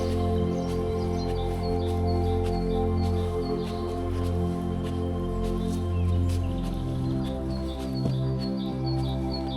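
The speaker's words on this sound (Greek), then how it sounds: "Εδώ ακούμε πουλιά." Faint bird chirps and tweets sound in the distance in a deer park, over a steady low humming drone, with no one speaking.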